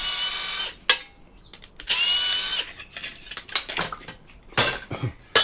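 Brushless impact driver taking apart a vintage 5.25-inch floppy drive for scrap, giving several short, high whirring bursts separated by clinks and rattles of small metal parts close by.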